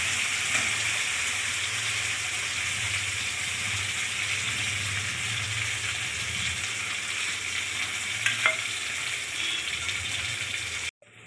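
A pea filling fries in oil in a pan, a steady broad sizzle holding at an even level throughout and then cutting off abruptly at the end.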